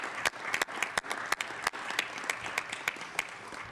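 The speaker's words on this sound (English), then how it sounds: "Could we give our city employees across the city a big round of applause?" Small audience at a city council meeting applauds city employees, a thin, fairly quiet clapping with individual sharp claps standing out, sparse and uneven rather than a full roar.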